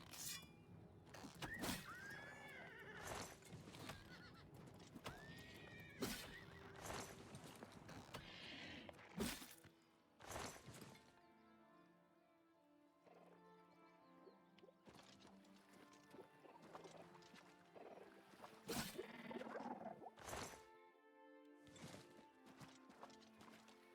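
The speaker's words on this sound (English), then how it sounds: "Park my horse right here." Horse in Oblivion Remastered: hooves clip-clop in uneven bursts, with occasional neighs and clinking mechanical game sounds, loud and close, then quieter ambient stretches between louder strikes.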